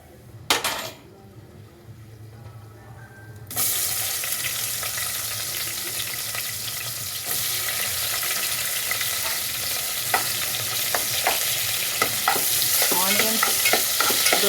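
Onions frying and sizzling in hot oil with roasted cashews, cinnamon, cloves and cardamom for veg pulao, a steady close sizzle broken by stirring scrapes and spoon clinks against the pan, with no talk.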